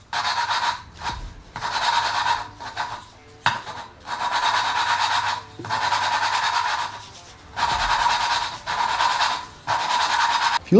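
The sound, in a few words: grinding an engine valve, gritty to smooth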